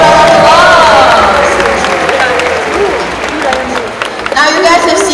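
A crowd at a sea lion show at Singapore Zoo applauds and cheers loudly and steadily, with whoops rising over the clapping and a presenter's voice faintly underneath.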